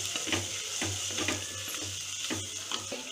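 Onion and tomato frying in a pan for paneer gravy, a steady soft sizzle with a regular scraping stir and faint low mechanical hum, no talk.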